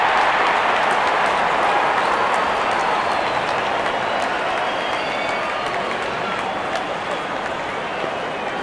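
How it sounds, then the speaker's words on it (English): A large stadium crowd in a cricket video game cheers and applauds in a dense, continuous roar that holds steady throughout, with a faint voice underneath. "Openers walking in and the crowd cheering in anticipation"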